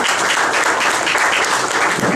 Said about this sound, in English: An encouraging round of applause, everybody, for Dr. Radhakrishnan Pillai.